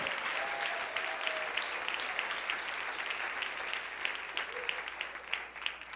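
A church congregation claps steadily for several seconds at an evening service, a dense, even roar of many hands, with faint voices and a brief tone under it.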